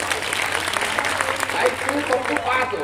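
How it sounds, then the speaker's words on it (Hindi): Audience applause at an all-India Hindi poetry gathering (kavi sammelan) held at a college, a dense, steady wash of many hands clapping with voices mixed in throughout. "एक बार जोरदार तालियां बजा करके बता दो भाई।"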